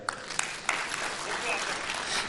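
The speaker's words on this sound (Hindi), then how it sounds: "अपने लिए ताली बजा लो।" An audience at a talk by Ramdev breaks into a short, even burst of applause, a wash of many hands clapping at moderate distance with a few sharper claps at the start.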